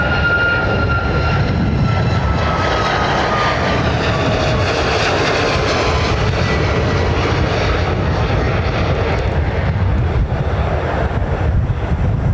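Boeing 737 Max jet at London Heathrow Airport, a loud continuous roar of engines with a slowly shifting whine as it passes close by, no talk.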